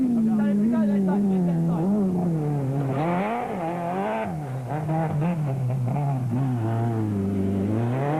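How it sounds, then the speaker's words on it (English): Castrol Toyota rally car running rough after swallowing water into its engine during the Osram Rally 2006; a loud, continuous engine drone rises and falls in pitch as it revs throughout. "the car sounded rough with water in some or other part of the very complex engine"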